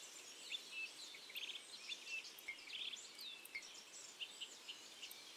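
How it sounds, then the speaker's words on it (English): Somewhere in the background a bird gives short, repeated squeaky calls like a squeaky toy, faint and distant, mixed with other high chirps. "there's a bird in the background that just kind of sounds like a squeaky toy"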